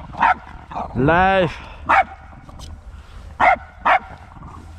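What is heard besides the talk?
jealous dog barking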